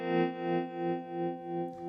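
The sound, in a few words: Chase Bliss Gravitas tremolo pedal with sway turned up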